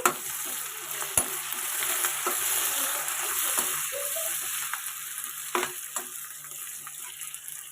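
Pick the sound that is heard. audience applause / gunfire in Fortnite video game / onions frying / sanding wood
onions frying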